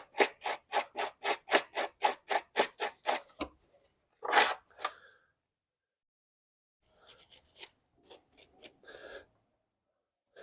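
Stiff brush scrubbing stainless steel brake hardware on a Toyota Highlander, a quick rhythmic run of about a dozen strokes, a pause, a single longer rub, then a softer scattered burst of brushing.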